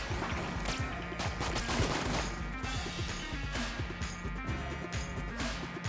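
Rapid extra gunshots fire from a passive weapon in Enter the Gungeon, a dense volley of sharp pops layered over constant in-game music and effects, loud and continuous throughout.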